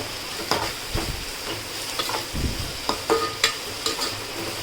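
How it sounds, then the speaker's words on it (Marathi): Crushed garlic and onions fry in a pan under a constant sizzle, broken by a series of rhythmic stirring scrapes and knocks from a utensil against the pan. "आपण आता लसूणसुद्धा कांद्यासोबतच चांगलं शिजवून घेऊयात"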